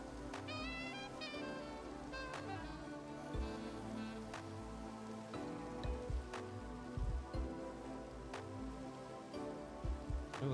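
Rain falls in the video game Minecraft, a soft, steady patter of drops with scattered sharper taps, quiet and continuous alongside faint background tones.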